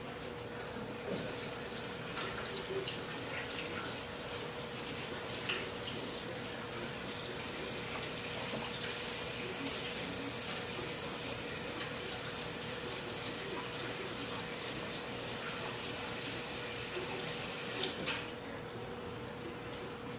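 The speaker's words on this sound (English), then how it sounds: "Alright, I'm done. Let me wash my hands." A tap runs steadily as hands are washed under it after handling a meatball mix of onions, cheese and herbs, a continuous close splashing stream lasting about twenty seconds with slight shifts in tone and no talk.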